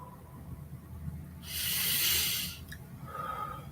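One deep, slow breath, a steady breathy rush lasting about a second, close to the microphone over a low background hum.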